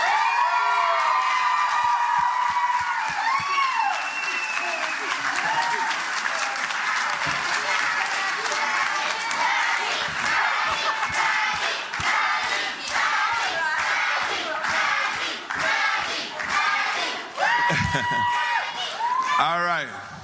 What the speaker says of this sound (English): I want one round of applause for our Maggie.